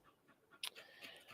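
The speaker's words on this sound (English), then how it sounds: "Don't love the panting, and that's okay." A dog pants softly and close by in quick, breathy bursts, quiet overall with a few sharper huffs in the middle.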